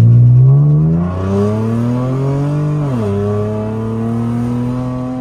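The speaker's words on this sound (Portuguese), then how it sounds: "Mas ele tá com um barulhão danado. Eu não vou na hora que abrir o sinal da arrancada, não. Eu vou deixar, eu vou acelerar normal, ó." A Chevrolet Camaro bought at auction revs up under steady throttle, its engine note climbing in pitch, dipping briefly at a gear change, then pulling on again, loud and close with no talk.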